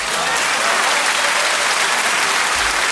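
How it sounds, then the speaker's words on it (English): Loud, sustained clapping from a large group fills the whole stretch, dense and even with no pauses. "the reason why we are starting with an applause"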